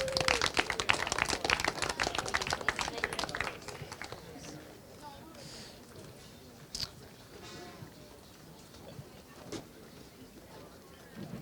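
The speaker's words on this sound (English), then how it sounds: "huge round of applause please for BMR number 3" A crowd claps at a British Kart Championship prize-giving in Larkhall for a Senior X30 third-place finisher, a burst of applause lasting a few seconds before fading into quieter ambience with scattered sounds and a voice talking.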